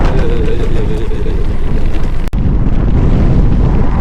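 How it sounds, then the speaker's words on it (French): Strong, constant wind battering the microphone on an open road in Kazakhstan, a loud, steady rumble with a brief dropout midway. "S'il y a bien une chose qui va pas me manquer du Kazakhstan, c'est le vent hein."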